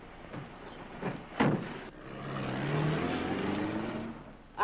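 A late-1930s car pulls away after a few door thumps and footsteps, its engine swelling to a steady mid-pitched drone as it drives off, fairly close and alone.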